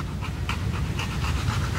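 A dog pants close by in quick, steady, rhythmic breaths, heard alone.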